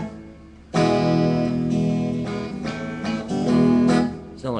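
An electric guitar chord rings through a Zoom R8 recorder's acoustic guitar simulator effect, sounding somewhat out of tune, loud with several restrikes and sustained tones over about four seconds, no voices.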